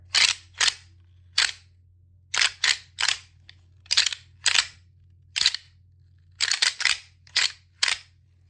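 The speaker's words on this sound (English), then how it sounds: "this is more of a louder tone because it's plastic pieces banging together" Plastic pieces inside a deer rattle bag, used for calling whitetail bucks, are smacked together in sharp clacking bursts, some single and some in quick doubles, loud and close against near silence.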